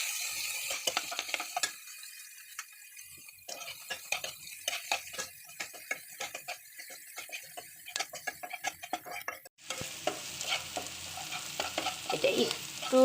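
Lentils and whole garlic cloves are stirred and fried in a pan, making rhythmic scraping and clicking strokes over a soft sizzle that swells into a steadier, louder frying hiss toward the end.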